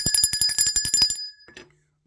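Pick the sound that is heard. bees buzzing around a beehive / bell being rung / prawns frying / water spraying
bell being rung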